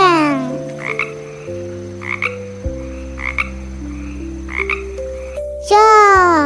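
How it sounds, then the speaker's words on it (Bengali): A frog croaks in a series of short, evenly spaced calls over a bed of sustained tonal music, loud and close, with a rising musical flourish at the end and no talk. "ব্যাং ডাকে"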